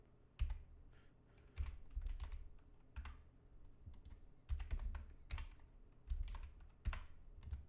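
Rapid clusters of computer keyboard and mouse clicks from stock trading at a desk, bursts of clacking keys separated by short pauses, close and fairly quiet with no talking.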